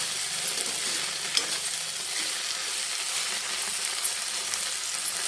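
Chopped okra and onion pieces fry in a pan, giving a steady close hiss of sizzling oil with faint occasional ticks and pops, continuous and even throughout.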